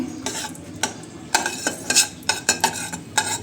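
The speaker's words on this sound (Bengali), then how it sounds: "আমি 1 টেবিল চামচ গাওয়া ঘি দিলাম, তারপর হাফ কাপের চাইতে একটু বেশি চিনি দিচ্ছি।" Ghee and sugar worked in a pan for bottle gourd semai: a run of sharp spoon-on-metal scrapes and clinks in an uneven rhythm over a faint low sizzle, close and fairly loud.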